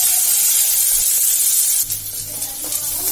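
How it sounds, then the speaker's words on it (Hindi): Onion, green chili, ginger and garlic fry in a pan with a steady bright sizzle and hiss that dips slightly partway through, close and continuous. "अब यहीं पे हरी मिर्च डाल रही हूँ, प्याज डाल रही हूँ और सबको फिर से भूनेंगे"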